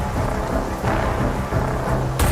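Heavy rain pouring during a thunderstorm in Bombay, a dense steady hiss under a low rolling rumble of thunder, with a sudden bright crack near the end.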